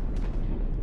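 Turret blown apart by gunfire during a naval battle in From The Depths, a dense rumbling boom of artillery-like fire that fills the whole short moment at steady loudness.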